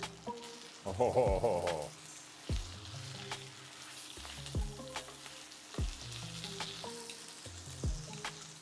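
A ribeye steak sizzles in butter in a pan, a steady spitting crackle punctuated by repeated low thumps and clatters as the meat is shifted around, with a brief exclamation near the start.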